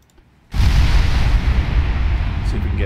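A warship's turret guns fire in the Ultimate Admiral Dreadnoughts naval game: after a brief near-silence, a single heavy, close boom bursts out and rolls into a long, loud rumbling sustain.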